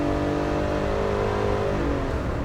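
A Chevrolet Spark engine strains while accelerating uphill. It gives a loud, steady, droning hum from inside the cabin, rising gradually in pitch with no voices.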